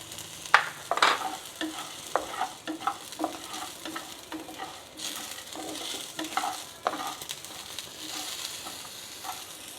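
Cumin, pepper and coriander roasting in a pan for mint chutney, with repeated scraping stirs and light dry sizzling crackles, close up, irregular strokes and no talk.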